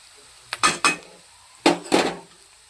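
A spoon scrapes and clinks against a pan while chili powder is mixed into a bitter gourd fry. The short, close strokes come in two pairs, separated by a quiet pause.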